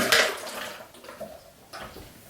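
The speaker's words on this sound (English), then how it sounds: "let me just get some water in firstly" Water poured for a drink, a short splashy gush at the start followed by softer trickling and a second small splash, close by with no talk.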